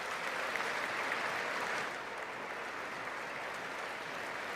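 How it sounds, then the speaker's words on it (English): Sustained crowd applause in a large chamber at a State of the Union address, steady and fairly faint, a continuous wash of clapping that eases slightly partway through. "Every second sentence, everybody's clapping"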